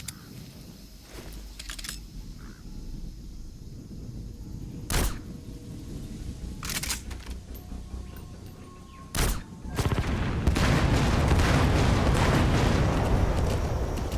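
Explosions in Metal Gear Solid V as objects are destroyed: a few sharp, loud booms spaced several seconds apart over a constant background rumble, ending in a sustained heavy roar.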